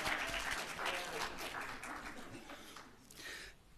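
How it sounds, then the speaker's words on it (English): Applause at an academic talk on Hispanic/Latin students in health service psychology programs: a faint, steady wash of audience clapping lasting a few seconds, heard at a distance and fading slightly toward the end. "Applause, please."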